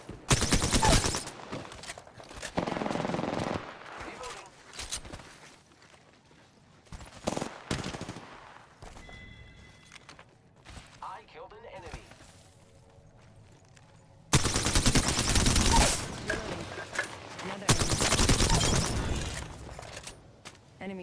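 Bursts of gunfire from weapons in the video game Apex Legends come in several loud rapid volleys separated by quieter gaps, with brief in-game voice lines and effects between them.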